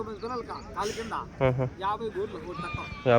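Sheep bleating repeatedly at a weekly Saturday-morning sheep market, several short wavering calls close by, mixed with people talking in the background.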